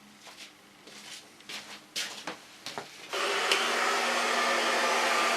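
A hand-held hair dryer blow-drying hair during a salon mohawk makeover: soft combing and brushing rustles first, then the dryer switches on with a loud, steady, close whoosh that holds to the end.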